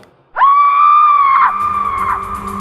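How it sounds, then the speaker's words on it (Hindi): A painful, drawn-out scream from a ghost story set in an old haunted mansion, loud and sustained for about a second before trailing into a ringing, echoing tone. "एक बड़ी ही दर्दनाक चीख मेरे कानों पर आ पड़ी।"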